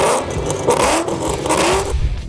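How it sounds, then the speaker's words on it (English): A supercharged Shelby GT500 V8 muscle car revs and accelerates hard, the engine note rising in pitch with a gritty roar, loud and close. "the GT 500 explodes into sound, as only unfiltered American muscle can"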